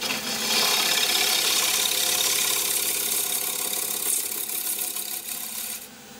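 On a wood lathe, the left wing of a gouge takes pull cuts across a spinning wooden sword part, giving a loud, continuous rasping scrape that eases off near the end.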